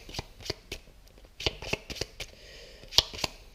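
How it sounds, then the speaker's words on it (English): Playing cards are shuffled close up, a series of crisp riffling snaps and flicks in an irregular rhythm. "I'm going to just give it a little shuffle. A quick mix."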